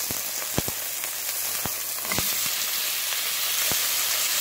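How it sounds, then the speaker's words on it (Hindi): Chicken frying in a pan with vegetables for a restaurant-style mixed vegetable dish, a steady close sizzle with scattered sharp pops and crackles throughout. "इसके साथ ही हम ऐड करेंगे अपना चिकन"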